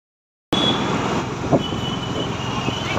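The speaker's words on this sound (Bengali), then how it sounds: "আমরা চলে এসেছি অটোতে করে" Steady traffic rumble heard from inside an auto rickshaw moving through Kolkata at night, with engine drone, a passing thump and faint horn-like tones, continuous and fairly loud.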